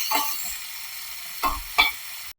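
Sliced onions dropped into hot oil in a pan for an egg curry, a soft sizzle with a few stirring scrapes, close and quiet.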